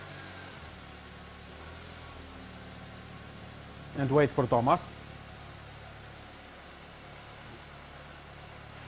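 A 2-liter Honda car engine idles with a quiet, steady low hum, and a person speaks briefly over it midway.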